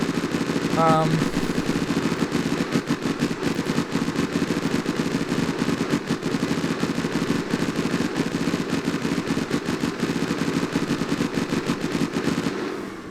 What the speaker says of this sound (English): That's the minigun.